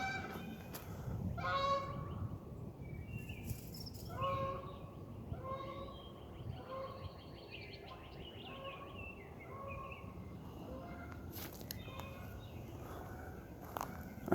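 Canada geese honk outdoors during a nature walk in breeding and nesting season. Their repeated nasal calls come in short clusters at moderate distance over soft footsteps and ambient outdoor noise.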